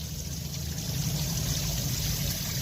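Water gushes under full pressure from a heater hose on a Suzuki Mehran car, a steady close rushing flow with a low engine rumble underneath, continuous and fairly quiet, no talking.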